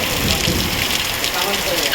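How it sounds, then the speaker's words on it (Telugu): Steady, dense rainfall of large drops in a village, a constant broadband hiss, close by and continuous, with a faint murmur of background activity underneath. "ఇప్పుడు దొడ్డు దొడ్డు చినుకులు పడుతున్నాయి"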